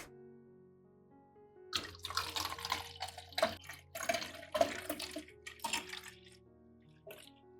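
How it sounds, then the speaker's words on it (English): Orchid fertilizer solution pours and splashes unevenly into a narrow mist spray bottle for several seconds, gurgling and sputtering, after a brief quiet start over a faint hum. "You pour the fertilizer solution into a mist spray bottle."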